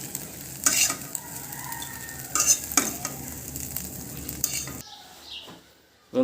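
Scrambled egg fries in a pan, a soft continuous sizzle under repeated sharp scrapes and clinks of a utensil stirring it, going quieter near the end.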